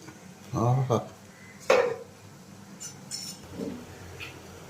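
A pot lid is lifted and dishes clink while kumbilappam steams. A voice speaks near the start, a sharp metallic clank follows, then lighter clinks and handling sounds.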